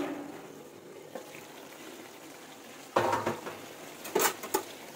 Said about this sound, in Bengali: চলুন এবার ঢাকাটা একটু খুলে দেখি যে কেমন কি হয়েছে